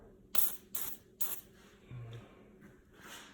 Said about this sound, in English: You can just start up top, give it a spray.